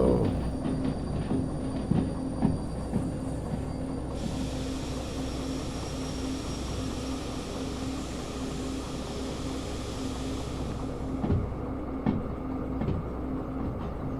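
A train rolls steadily along rails in the Derail Valley simulator, a continuous low rumble with occasional clicks of wheels over track joints, and a brief higher whine partway through.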